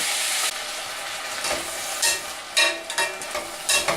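A knife scrapes and stirs onions and peppers in a pan over a constant loud sizzle, with several distinct scraping strokes spaced through the frying and no talking.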